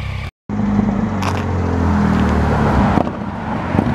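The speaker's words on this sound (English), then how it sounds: "There's a supercharged bike if I ever saw one." A supercharged Kawasaki motorcycle at a Kawasaki meetup runs close by with a loud, steady, throaty engine drone. The sound cuts out briefly near the start, then holds strong before easing slightly toward the end.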